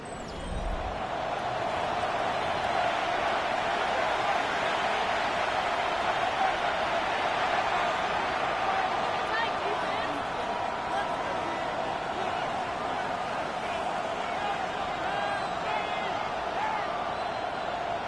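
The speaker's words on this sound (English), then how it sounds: "The crowd making their presence felt." Stadium crowd noise in an EA Sports NFL football game: a dense, steady roar of fans holds for the whole stretch, broad and constant with a faint ringing tone, while a commentator talks over it.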